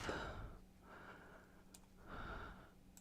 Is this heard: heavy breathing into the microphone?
yes